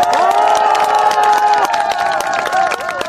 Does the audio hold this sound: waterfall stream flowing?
no